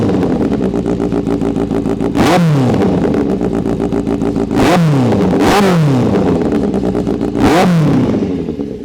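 A Kawasaki Z800 motorcycle with a custom exhaust idles with a loud, close, throbbing burble, blipped into several sharp revs that rise and quickly fall back, the bursts spaced a few seconds apart.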